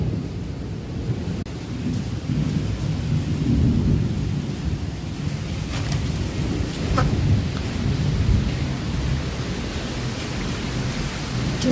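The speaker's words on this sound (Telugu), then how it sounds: "వర్షం చూద్దాం రా" A thunderstorm with steady rain and low, rolling thunder rumbling throughout, broadband and fairly loud, with a few faint distant clicks and no speech.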